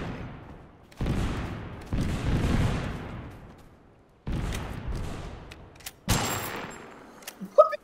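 Bursts of gunfire in the video game TABG, several loud rattling volleys separated by short pauses, each dying away into echo, with a few sharp isolated shots at the end.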